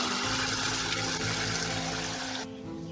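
Water pours into a pot of boiled mung dal cooked with lime leaves and fried ginger, a soft steady splashing rush that runs for a couple of seconds and then drops to a quieter bubbling.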